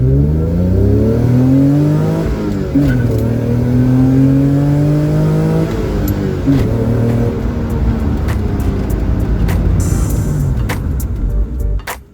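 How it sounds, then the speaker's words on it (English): Hyundai Elantra, a 1998 model fitted with a swapped Tiburon V6, driving under load, its engine revving up and down in rising and falling sweeps, loud and close from start to finish with no talk. "We're driving the Hyundai Elantra Project Elantra V6 right now."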